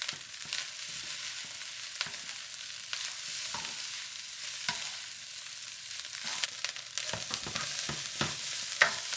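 Salmon fried rice sizzles in a hot oiled pan, a steady crackling hiss broken by sharp scraping clinks of a spatula stirring and browning the rice.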